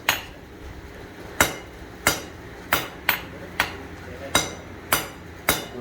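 Hammer blows ringing on hot steel while forging a round punch, about nine sharp metallic strikes at a steady, unhurried rhythm, each with a brief ringing decay, close and loud.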